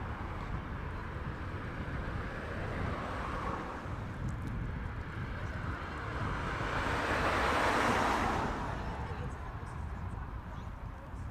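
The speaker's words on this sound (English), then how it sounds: "I can feel the wind has picked up now" Wind gusting outdoors at Heathrow Airport, a continuous broad rushing roar buffeting the microphone that swells louder around the middle and then eases slightly, with a person talking faintly beneath it.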